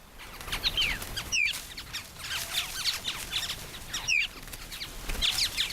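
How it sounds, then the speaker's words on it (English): An Australasian figbird sings scattered short, whistled and chattering notes at moderate distance over a soft outdoor background, repeating in irregular bursts. "It's an Australasian fig bird, the Australian cousin of our oriole."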